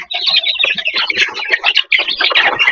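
Chickens being fed, a close, dense burst of overlapping squawks and clucks that continues almost without pause.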